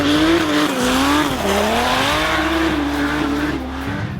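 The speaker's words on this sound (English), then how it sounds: "People drifting anyway." Drift cars at a British drift championship final wail with a sustained, wavering tire squeal over loud engine roar, close and continuous for several seconds with the pitch rising and falling as the cars slide.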